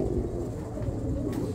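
Homing pigeons of Belgian or Dutch lines coo in a loft, a low rumbling, throaty cooing that carries on continuously up close with no talk.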